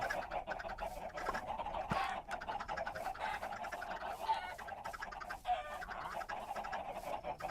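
Dense flock of chickens in a hardcore survival video game, crowded into an XP farm, clucking and squawking continuously and overlapping at steady volume throughout.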